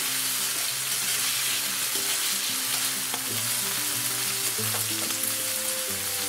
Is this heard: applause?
no